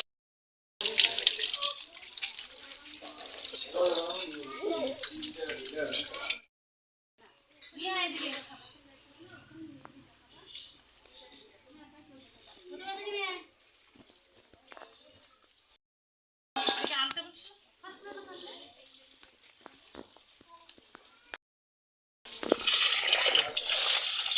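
A kitchen tap runs in gushes while fish are washed and rubbed by hand, with someone talking between and over the bursts of water.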